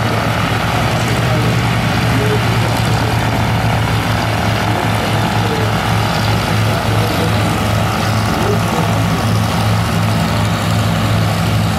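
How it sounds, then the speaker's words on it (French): A training airplane at the Sion air show in 2011 makes a loud, steady propeller-engine drone that continues unbroken and close throughout. "C'est un très bon avion d'entraînement pour aller passer"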